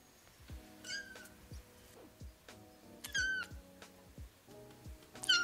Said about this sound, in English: I know you've been talking about getting a kitten.